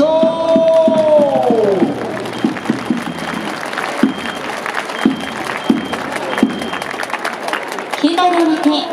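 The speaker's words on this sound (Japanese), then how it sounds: "さあ、ナイスホームランの広岡選手に大きな拍手。" A large baseball stadium crowd applauds and cheers after a home run, with a public-address voice speaking over it and scattered sharp claps and thumps.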